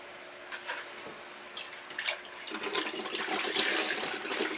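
Water drains out of a fry net bucket lined with pantyhose, giving a steady faint trickling and splashing that builds slightly toward the end, with no talk over it.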